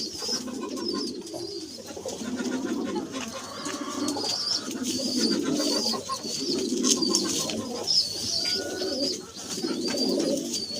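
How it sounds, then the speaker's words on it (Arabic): Pigeons coo close by in a soft repeated rolling rhythm, several birds overlapping steadily with faint chirps and rustles around them and no clear talk. "حمام صحته كويسه ما شاء الله يا جماعه"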